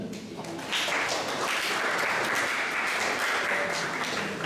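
Applause from an audience at a broadcasting workshop in Probolinggo, soft and fairly distant, a steady patter of clapping lasting several seconds with a few faint voices mixed in.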